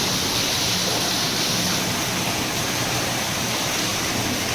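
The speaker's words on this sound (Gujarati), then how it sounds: "જોરદારનો પાણીનો દરેડો આવે હો ભાઈ જો" A strong gush of water pours from a newly drilled borewell on Gujarati farmland, a loud, steady broadband rush that runs unbroken and close for the whole stretch.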